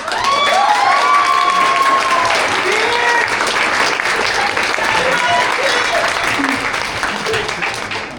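Audience applause with some cheering at the close of a stage musical production of Ride the Cyclone, a dense, steady clatter of many hands filling the room, with brief raised voices and whoops rising above it early on.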